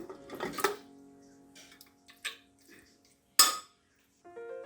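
Mutton pieces clatter into a metal pressure cooker in a few clinking bursts, with a sharp metallic knock near the end and quiet pauses between.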